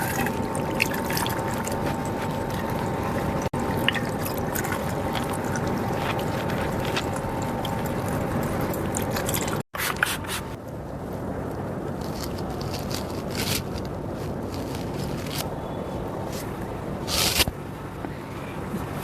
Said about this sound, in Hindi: अब मैं अपने फेस को बिल्कुल सिंपल पानी से वॉश करूंगी।